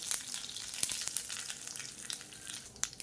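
Mustard seeds and urad dal sizzle in hot oil, a steady close hiss with sharp pops and crackles scattered through it.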